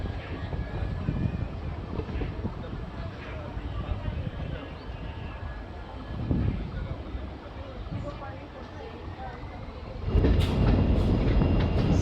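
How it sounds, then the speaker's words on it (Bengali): A train pulls slowly out of Siliguri Junction, hauled by an EMD diesel locomotive with an electric locomotive coupled behind, on a line near narrow gauge toy train tracks. A steady low rumble with faint rail clatter swells louder near the end. "শিলিগুড়ি জংশন স্টেশন থেকে ধীরে ধীরে ট্রেন বেরিয়ে যাচ্ছে"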